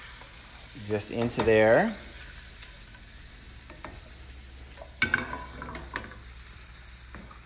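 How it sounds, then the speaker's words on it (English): Raw shrimp go into a frying pan for alfredo, a soft sizzle under a brief spoken phrase, then a sharp clatter and louder burst of frying as they land, fading back to a quiet hiss. "I'm going to add some of these shrimp"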